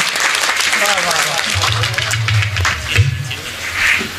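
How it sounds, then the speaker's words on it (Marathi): A crowd claps at a religious discourse, a broad wash of applause running the whole time with bursts and swells, and a voice chants over it. "वाजवा वाजवा, जोरात वाजवा टाळी"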